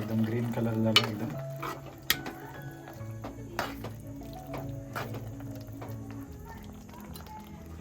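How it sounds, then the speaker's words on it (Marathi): A spoon stirs chicken kheema cooking in a metal pot, with scattered scraping clinks and a few sharp knocks against the rim, fairly quiet, with a voice speaking in between. "आता आपला किमा शिजतोय. मध्ये मध्ये असं थोडा ढवळून बघायचं"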